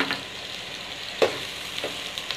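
Onion, ginger and garlic frying for chicken karahi, a steady soft sizzle with a few sharp scrapes of stirring, moderately quiet and without voices.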